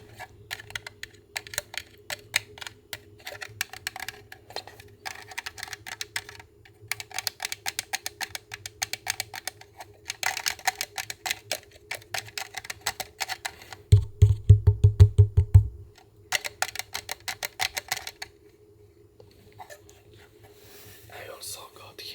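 Fingers tap and click across a hollow plastic Warhammer 40k tank model in dense, quick flurries, close and soft, with a louder run of knocks near the middle and a quiet whispering voice throughout.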